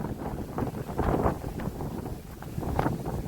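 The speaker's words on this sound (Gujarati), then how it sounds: "તો પવન પણ વાડીએ બહુ છે" Steady, strong wind on a cotton farm buffets the microphone with a low, rumbling roar that surges and eases throughout.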